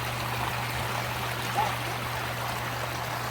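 At a backyard water feature, water trickles and flows in a soft, steady stream, constant and fairly close with no voices.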